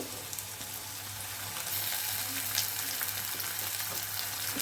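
Bitter gourd with chopped onion and tomato fries in oil, giving a dense, continuous close-up sizzle that swells slightly midway, with faint stirring underneath and no voices.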